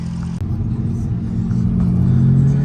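A modified BMW E90 335i of about 500 to 600 horsepower, set up for drifting, drones loudly on a race track lap, its engine rumbling steadily and rising slightly in pitch as it pulls, with a sharp click early on.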